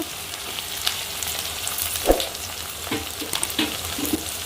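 Onion with ginger-garlic masala fries in a pan, giving a continuous soft sizzle with a few scraping stirs and clinks, close and alone without any talk.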